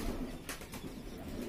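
Male Amritsari (Ambarsari) pigeon cooing softly nearby in a home loft, low murmuring coos with a faint flutter of wings, no talking over it.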